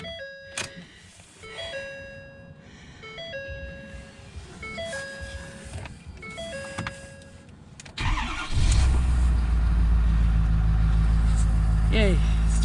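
A race car headed to Tulsa Raceway Park is started after a run of electronic chimes, then its engine fires loudly and settles into a heavy, steady idle close by.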